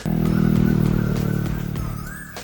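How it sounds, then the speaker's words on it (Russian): A motor vehicle passes close by with a steady engine hum that rises and then fades as it moves away. "Мы слышим машины, мы уже очень близко."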